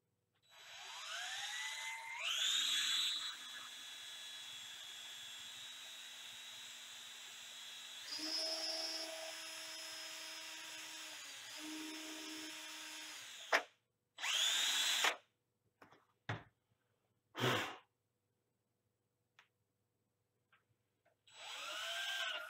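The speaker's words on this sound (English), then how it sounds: "if you excuse the drill noise" A small electric drill bores a 5 mm magnet hole in a miniature, whirring up in several short high-pitched bursts with motor whine and pitch changes, separated by pauses and brief trigger blips, close and alone.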